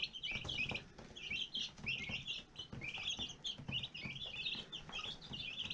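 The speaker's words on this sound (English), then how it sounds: "This right here is a little turkey, guys." Soft, high peeping chirps from a young turkey repeat in quick bursts, fairly faint and close, with no talking.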